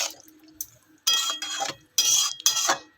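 Spoon scraping and clattering in a pan while beans and potato curry are stirred after a cup of water is added, coming in several short bursts with wet, liquid scraping and brief pauses between strokes, close and fairly loud.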